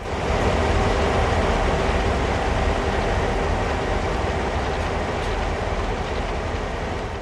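A New York Northeast Corridor passenger train runs in the Train Sim World video game on Xbox One, giving a loud, steady rumble of rolling wheels and rail noise with no voices.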